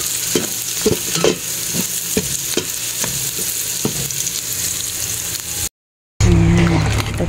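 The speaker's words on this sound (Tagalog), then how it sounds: "Tapos magluluto naman ako ng patola na may miswa." Sponge gourd (patola) with misua noodles stir-fried in a pan, a steady sizzle broken by repeated scraping stirs of the spatula, close and fairly loud with no talk, ending in a brief gap and a louder burst.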